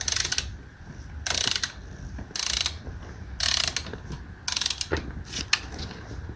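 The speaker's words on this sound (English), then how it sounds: "I figure it's a 1/4 inch ratchet." A 1/4 inch ratchet tightens valve body bolts on a 4L80E transmission during a rebuild: about five close, loud bursts of rapid clicking, separated by short pauses.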